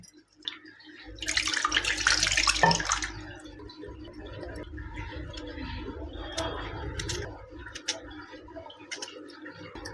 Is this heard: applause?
no